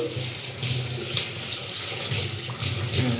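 Tap water runs steadily while a hand is washed and rubbed under the stream, a continuous close splashing flow with no talking.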